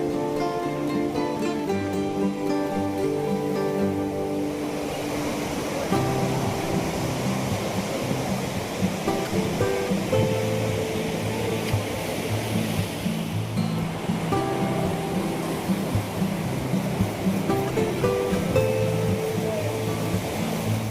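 Continuous rushing water roars steadily, a broad, constant flow like a fast river close by, with no pauses, in Himachal Pradesh's Spiti Valley.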